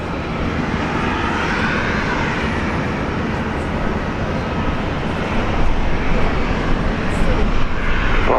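An airliner takes off from runway 19 left at Brisbane International, its jet engines giving a loud, broad roar that holds steady and grows stronger toward the end.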